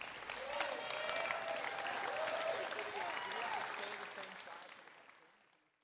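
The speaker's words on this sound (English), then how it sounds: "she got a standing ovation on that shot" Standing ovation from a pickleball crowd at a Major League Pickleball championship court in Newport Beach, dense sustained applause and cheering that swells, holds, then fades out, with voices shouting in the mix.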